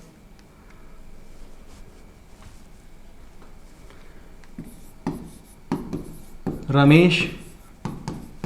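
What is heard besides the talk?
chalk or pen writing on a board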